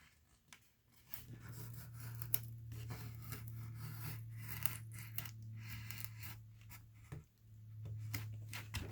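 Scissors cutting away the excess from a handmade journal cover, a run of close snipping and rubbing under a steady low hum, with a short pause before the cutting resumes.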